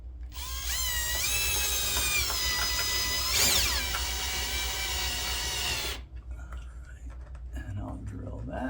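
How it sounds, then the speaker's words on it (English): A power drill bores into a window frame while installing pull-down blinds, a loud, close whine that rises as it spins up, holds for several seconds with a brief strained bump, then cuts off, leaving quiet handling sounds and low voices. "we're going to drill this hole into that frame"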